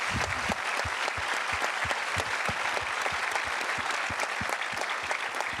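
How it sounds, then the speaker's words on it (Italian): An audience at an international fair play award ceremony breaks into applause, a continuous, lively patter of many hands clapping, with some individual claps standing out close by. "solo questo merita un applauso"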